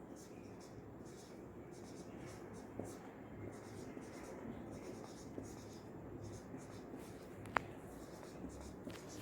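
Numbers are written on a board, giving soft, scratchy strokes that come in short bursts over a quiet background, with faint talking.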